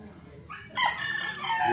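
A Shelton roundhead and Boston sweater cross rooster crows nearby, its loud call rising and holding over faint background noise.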